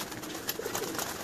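Pigeons cooing in a loft, their soft, low coos rising briefly and repeating close by over a faint background, with no talking.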